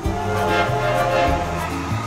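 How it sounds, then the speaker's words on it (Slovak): A train passes by, a steady, fairly loud rolling sound with sustained tonal hums that shift pitch several times, heard alone without voices. "tak ide ďalší vlak."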